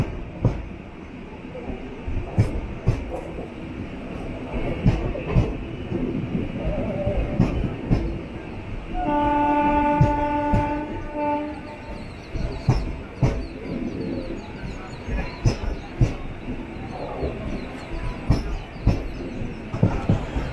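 Antyodaya Express 20691 pulling out of Dindigul station at low speed, a steady rumble of wagons with clanking, a brief horn-like tonal blast in the middle, and faint bird calls.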